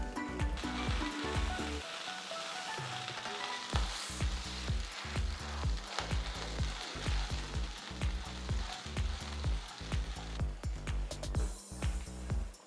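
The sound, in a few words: green chillies and garlic frying in oil in a pan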